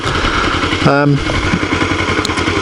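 A motorcycle engine rumbles steadily at idle, with a brief rising tonal whine partway through and light mechanical ticking underneath.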